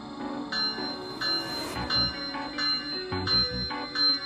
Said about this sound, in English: Very nice bell, I'd say.